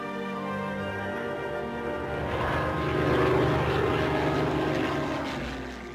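A Spitfire flies overhead while coming in to land, its propeller engine drone swelling louder toward the middle, then easing off as it passes.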